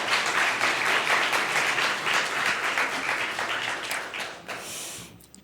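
Sustained applause from a congregation at a church youth worship service, steady dense clapping for about four seconds before it thins and fades out near the end.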